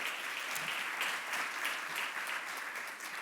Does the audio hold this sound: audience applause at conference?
yes